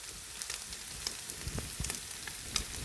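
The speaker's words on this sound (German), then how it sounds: "Jetzt gebe ich hier meinen Tomatenmark rein und brate das auch noch mal mit an" Tomato paste and minced meat fry together in a hot pan, giving a continuous crackling sizzle with scattered pops and occasional scrapes of stirring, close and fairly loud, with no talking.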